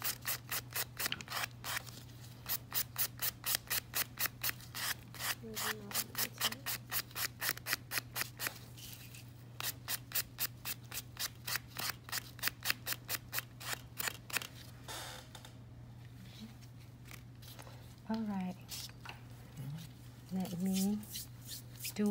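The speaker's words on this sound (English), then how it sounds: "So when I buff, I usually hold it and on the sides and buff it down instead of go back and forth" Acrylic nails being buffed with a nail buffer, repeated quick rhythmic rubbing strokes close up over a steady low hum, with someone speaking in places.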